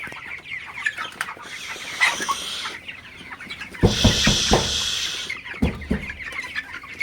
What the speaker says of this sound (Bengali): তো আপনারা দেখতে পাচ্ছেন আমার ব্রয়লার মুরগিগুলো